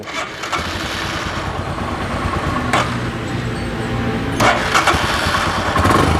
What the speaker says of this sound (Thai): ยังคงเป็นท่อเดิมนะครับเดี๋ยวเราฟังเสียงท่